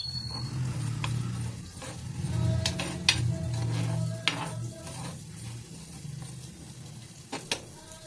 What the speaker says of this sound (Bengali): এই প্যানটাতে ভেজে নিই।